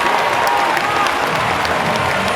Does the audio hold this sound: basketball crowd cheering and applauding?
yes